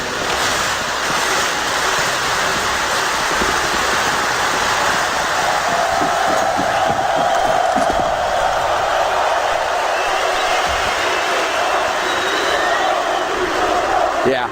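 Crowd in an esports arena at a CS:GO quarterfinal match, North vs Virtus.pro at PGL Krakow 2017, a loud, sustained roar of cheering that swells and stays dense, with a voice faintly audible under it.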